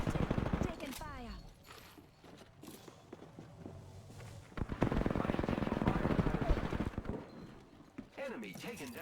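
Rapid bursts of automatic gunfire and footsteps in a squad-based shooter video game, loud and dense through most of the stretch, mixed with a voice talking.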